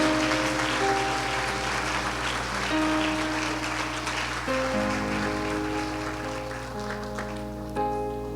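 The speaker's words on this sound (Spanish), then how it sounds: "Denle un aplauso al Dios que vive." Church congregation applauding during a Sunday service, a steady spread of clapping laid over sustained organ or keyboard chords that shift now and then.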